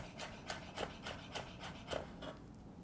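Knife slicing rolled green leaves into thin strips on a cutting board, a steady series of soft, close rasping cuts roughly every quarter second, with no talking.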